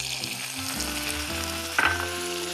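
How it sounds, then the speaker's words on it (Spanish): Butter melting with flour in a pan on moderate heat gives a steady frying sizzle, close and continuous, with a brief sharper clink or scrape partway through. "Voy a fundir mantequilla, que no vaya muy fuerte."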